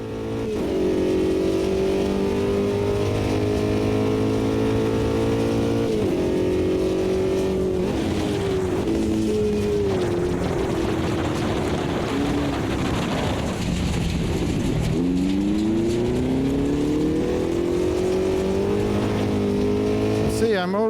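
A rally car driven off-road at the limit in the Automobilista 2 racing game, its engine loud and steady throughout with repeated rises and drops in pitch through gear changes, while someone talks over it the whole time.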